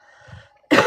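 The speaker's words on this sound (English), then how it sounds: "I apologize if I'm coughing and hacking throughout the live today" A single harsh throat clear bursts out at the end, loud and close, after a quiet moment with faint background tones.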